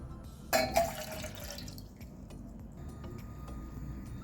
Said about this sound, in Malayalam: ഒരു പാത്രത്തിലേക്ക് 2 ഗ്ലാസ് വെള്ളം ഒഴിച്ചു കൊടുക്കാം.